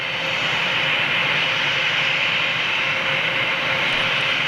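Aircraft departing at Schiphol airport, a loud, steady jet engine roar that holds constant throughout with no talk.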